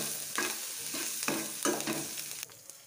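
Food fries in a pan until golden brown for a restaurant-style capsicum curry. A steady sizzle runs under several distinct scraping stirs, heard close up with no talking.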